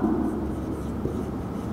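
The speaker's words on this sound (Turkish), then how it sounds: "Burada aynısını yazıyorum." A pen moving steadily across paper, close and continuous with a soft scratchy texture, alone without voices.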